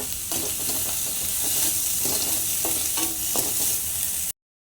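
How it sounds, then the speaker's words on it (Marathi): Onion, garlic, ginger and coconut roasting in a hot pan for a crab curry: a steady, loud sizzle with scraping stirs of a spoon across the pan at irregular intervals, no voices. "आता मी कांदा घालते भाजायला त्यावर लसूण आलं सुद्धा घालते खोबरं घालते टमॅटो घालते"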